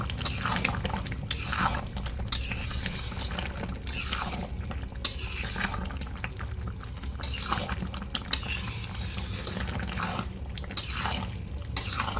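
Food being stirred and mixed in a cooking pan, with repeated wet scraping strokes in an uneven rhythm and occasional light utensil clinks against the pan, close and moderately quiet.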